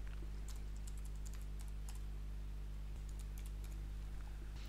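Computer keyboard typing in a software tutorial: scattered light key clicks come in two clusters over a steady low hum, with no talk.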